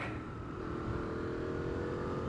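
A Benelli Leoncino 800 Trail motorcycle engine with cable throttle runs steadily up close, a dense, continuous low rumble holding an even level without clear revs.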